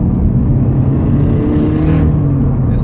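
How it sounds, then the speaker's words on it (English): Turbocharged Subaru BRZ/GT86 with a Garrett G25-660 turbo kit pulling through third gear on the street, a steady, loud in-car engine drone that stays constant with no talk. "This third gear does a decent pull, not trying too hard."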